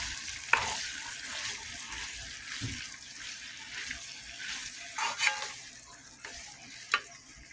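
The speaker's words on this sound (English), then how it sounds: "Some cilantro into the pot and some garlic. I'm gonna give all of that a stir." Cilantro and garlic stirred in a pot, soft scraping and low simmering with a few sharp clinks of the spoon against the rim, close but quiet, no speech.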